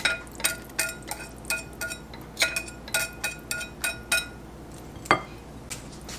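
Wet and dry vanilla donut batter is stirred together in a bowl, the utensil clinking against the sides in a quick, irregular series of close, bright taps.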